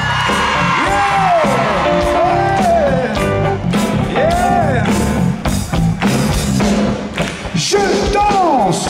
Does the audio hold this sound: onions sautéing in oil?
no